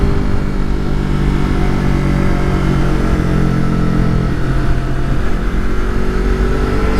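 A Kawasaki Ninja ZX6R motorcycle engine runs loud and close, a steady droning rev held throughout with a slight pitch shift midway, no talk.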